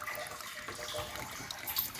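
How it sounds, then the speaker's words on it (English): Filtered water from an off-grid filtration setup drips and trickles into a gallon container, a steady close splashing patter with no voices. "I rigged this little gallon container that it drips into there."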